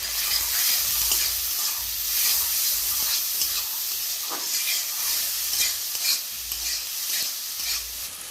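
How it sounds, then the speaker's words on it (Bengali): Spices with salt and turmeric frying in a pan while being stirred, a loud close sizzle with repeated scraping strokes of the spoon, steady throughout and without any talk. "আমি এখন একটু নেড়ে দেব"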